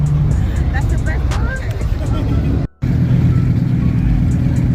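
A Lamborghini Huracan STO drives past at a car meet, its engine noise loud and close under excited talk, dipping briefly before the roar returns.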